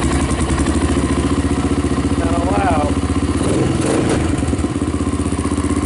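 A Honda TRX300EX ATV, built up from junk parts, runs with a steady, loud, pulsing engine chug and rattle throughout, with a voice heard over it.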